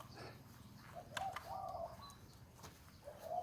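Zebra doves (nok khao) coo at a Thai bird camp in short soft phrases, one near bird calling at intervals among distant background birds and general outdoor noise.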